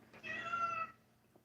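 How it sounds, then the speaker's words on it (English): A house cat meows for food in a single drawn-out, fairly close call lasting under a second, followed by quiet. "that's my cat asking for food."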